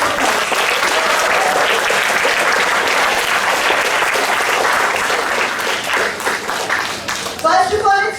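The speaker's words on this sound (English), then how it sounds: "So class 8C children deserve a very big round of applause." Large school assembly audience gives a big, sustained round of applause for class 8C children, dense continuous clapping filling the hall, with a voice starting to speak over it at the end.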